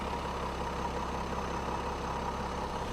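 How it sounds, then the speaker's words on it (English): A Jeep Gladiator pickup's EcoDiesel engine idles steadily up close, a low, even diesel rumble held throughout with no talking. "This is the diesel, EcoDiesel, you can hear it."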